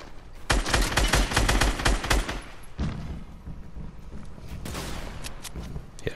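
Rapid bursts of automatic gunfire from the video game Fortnite rattle loudly and continuously for a few seconds, then give way to quieter, scattered shots and rumbling. No voices are heard.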